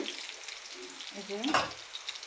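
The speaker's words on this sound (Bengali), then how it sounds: "এখানে পেঁয়াজ এবং রসুন মরিচ দিয়ে ভালো করে ভেজে নিলাম" Onion, garlic and chili frying in a pan for a papaya and bottle gourd vegetable dish, a light crackling sizzle with stirring scrapes and a brief louder burst, while a voice speaks faintly.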